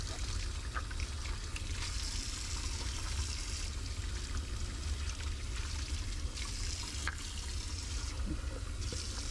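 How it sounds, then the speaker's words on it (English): Tap water runs and splashes steadily into a lab glassware pour bucket being rinsed, a close, continuous hiss and gurgle lasting several seconds, with no talk. "Now I rinse the pour bucket."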